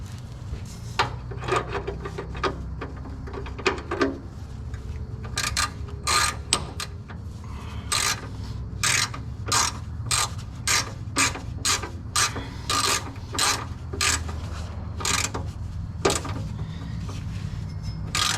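Ratchet tightening an oil filter during a truck oil change: a series of quick clicking strokes in bursts, fairly close, over a low background hum, with pauses between turns.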